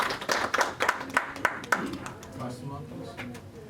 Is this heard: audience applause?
yes